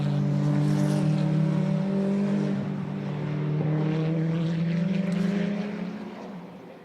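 DTM Trophy race cars lapping the Hockenheimring circuit in qualifying, a loud sustained engine drone with shifting pitch that swells and then fades as the cars pass.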